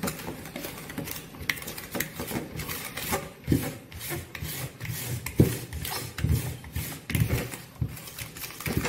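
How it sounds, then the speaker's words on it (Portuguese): A balloon whisk worked by hand through chocolate cake batter makes a steady, rapid scraping and slapping rhythm against the bowl. It stays close and continuous throughout, with no talk. "Novamente com o globo misturo antes de voltar para a batedeira."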